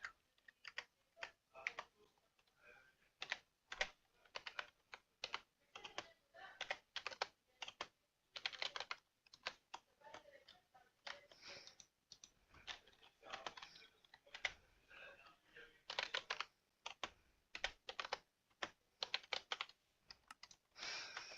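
A computer keyboard clicks in quick irregular bursts while coordinates are typed for a Minecraft server, close and crisp, with short pauses between runs of keys.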